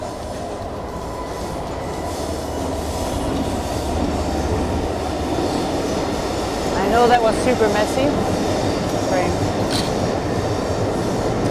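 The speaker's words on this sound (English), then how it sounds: "We're just underneath the train tracks at Battersea Power Station." A train rumbles across the tracks overhead at Battersea Power Station, a steady heavy roll with clickety-clack and some wheel squeal that grows louder midway, while a person talks beneath it.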